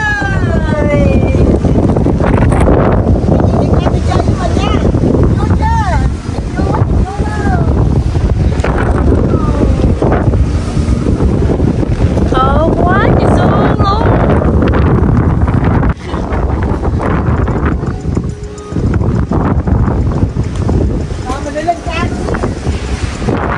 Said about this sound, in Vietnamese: Gió thổi lắm bạn ơi, để mình cho các bạn cảm nhận nè.